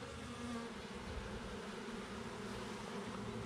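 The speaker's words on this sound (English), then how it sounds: "There's a good pile of bees here." A dense swarm of honeybees clustered in a pile hums in a continuous, even buzz, fairly quiet and close, with no other sounds.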